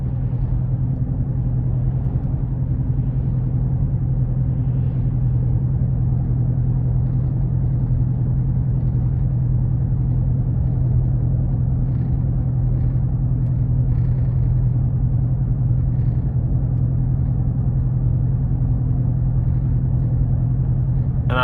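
Steady low engine rumble from a tuned 2017 GMC Yukon Denali cruising at about 42 mph in 4-cylinder mode, a constant smooth drone heard from inside the cabin with no speech.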